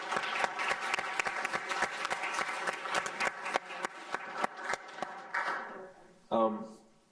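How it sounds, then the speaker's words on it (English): Audience applause for panelists after a morning panel discussion, many scattered sharp claps thinning out as it goes, ending with a brief murmur of voices and a final clatter. "if we could give a big round of applause"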